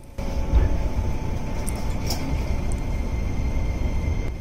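On board a Kanto private railway train pulling out of a station, a steady rumble of wheels and carriage fills the space at an even level, close and continuous, with no voices.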